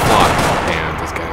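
Gunfire rings out during a police SWAT shootout in the video game GTA IV: a loud, dense, continuous burst of shots that fills the whole moment and fades slightly toward the end.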